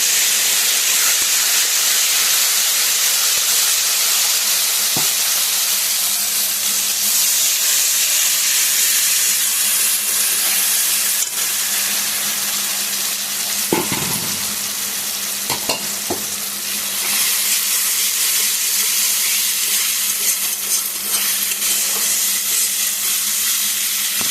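Nigella, mustard seed, green chili, ginger and turmeric sizzle in hot oil with a loud, steady, close hiss of frying that runs throughout, broken by a few clinks and stirring scrapes.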